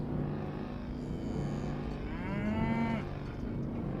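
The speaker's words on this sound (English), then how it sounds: "I'm looking at a Clydesdale horse" A Clydesdale horse sound effect in an audio drama, heard as a deep, drawn-out animal call rising over a steady low background rumble near the end, with no talk.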